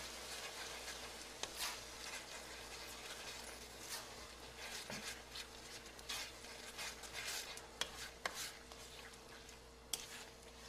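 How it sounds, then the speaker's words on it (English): Thai curry with coconut milk kept moving in a pan, giving a steady soft sizzle and bubbling with occasional spoon scrapes and taps against the pan. "it's very important to just keep everything in the pan moving"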